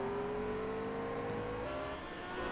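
Two race car engines power out of a hairpin during a two-hour historic endurance race at the Dundrod Tourist Trophy circuit, a loud continuous drone with rising pitch that shifts as they accelerate away, heard close with no talk.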